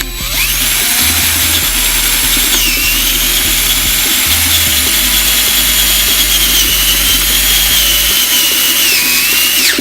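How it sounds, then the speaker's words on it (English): A power drill boring holes through an S2000 upgrade part, a loud continuous whine that shifts pitch as the bit bites and eases, close up with no talk. "Get those two drilled out."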